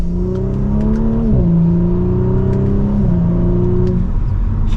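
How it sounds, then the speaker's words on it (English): A 2023 Audi S4 Premium Plus sedan with an upgraded exhaust revs and accelerates steadily from second gear, pitch climbing through crisp gear changes, with faint pops and crackles from the exhaust. "You can hear slight crackles in that upgraded exhaust"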